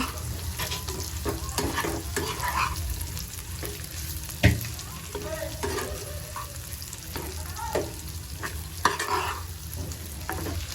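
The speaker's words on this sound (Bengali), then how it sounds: "বট তেলে ভাজতে গেলে টাস টাস করে ফুটে ওঠে।" Marinated beef tripe fries in hot oil in a pan, a constant loud sizzle broken by sharp spattering pops and occasional stirring scrapes, with no talk.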